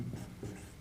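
Pen or chalk scratches out a math formula during a Class 10 arithmetic progression lesson, a brief, close, continuous scraping stroke with no talking over it.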